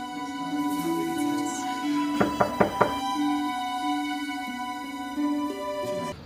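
A quick series of four sharp knocks on a door, close and distinct, set over a steady tonal background hum with no voices during the knocking.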